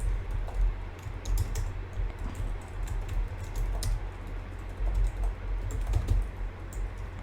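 Steady rapid typing of code on a computer keyboard, close and clear, continuous clicking keystrokes with short pauses and no talking over them.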